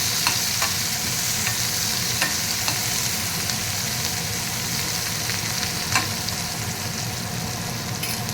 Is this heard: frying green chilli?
yes